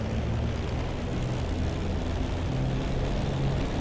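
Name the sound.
Spitfire LF Mk. IX engine revving for takeoff in video game DCS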